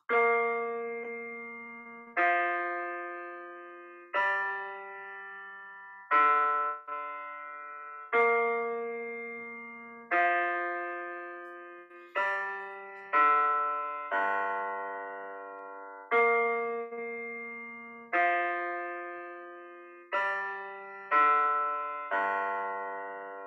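A plucked string instrument plays the Renaissance Romanesca ground, a slow repeating chord progression, each chord struck and left to ring and fade before the next, clear and alone.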